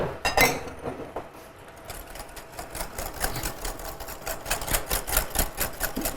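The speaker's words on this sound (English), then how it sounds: "So I'll just keep on whisking. The sugar and the yolk." Sugar and egg yolk are whisked together in a bowl, a rapid, even ticking and clinking of the whisk against the sides that carries on steadily up close with no voices.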